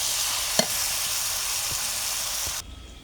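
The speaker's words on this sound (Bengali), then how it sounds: "এখানে চিংড়িটাও দিয়ে দিলাম।" Prawns drop into a pan of mango curry frying on the stove, and a steady close sizzle follows with a few light stirring knocks. The hiss cuts off sharply near the end.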